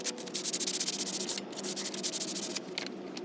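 Car brake pads being sanded with 220 grit sandpaper, rendered as close, rhythmic back-and-forth rasping strokes in a steady even sweep, with a brief pause midway and no talking.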